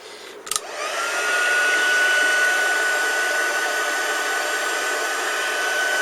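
A hair dryer clicks on and runs with a steady, loud whooshing blow and a constant high whine, drying glue on an altered domino, with no voices.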